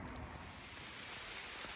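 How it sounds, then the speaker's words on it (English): Distant thunder rumbles over steady rain at a campsite in the White Mountains, a faint, low, continuous roll beneath rainfall and wind hiss, with no one speaking. "Thunder. Rain in the distance."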